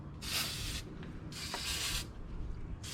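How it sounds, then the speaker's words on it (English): Silicone spray hisses onto the upper radiator hose of a 2004 Nissan Sentra in short, close bursts: two full sprays separated by a pause, then the start of a third, with no talk. "Shoot some silicone spray."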